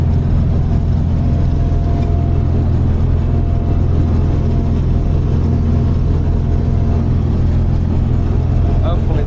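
A farm tractor engine on harvest day runs with a loud, continuous low rumble close by, holding a steady idle throughout without pauses.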